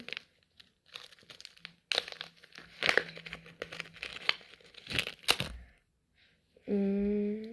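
Crinkling plastic rustles and tears in bursts as a packet is worked open, followed by a brief tonal whine at the end.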